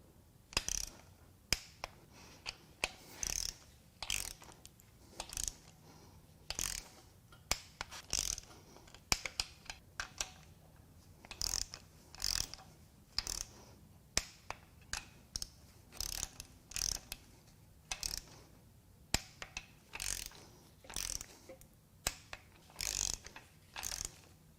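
Ratcheting clicks of a torque wrench drawing down bolts in sequence on a Chrysler 3.6L Pentastar V6 during engine assembly, close and crisp, coming in repeated short bursts with brief pauses between each bolt, no talking.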